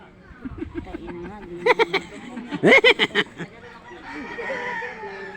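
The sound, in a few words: rooster crowing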